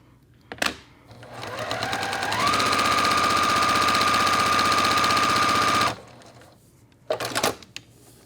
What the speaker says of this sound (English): Just keep it nice and flat and stitch directly on the line.